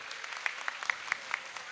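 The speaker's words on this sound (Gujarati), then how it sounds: "એકવાર બધા વડીલોને જોરદાર તાળીઓથી વધાવી દેજો એમ." An audience at a Rajput community gathering applauds the elders, a steady crowd of clapping heard from a moderate distance with no talk.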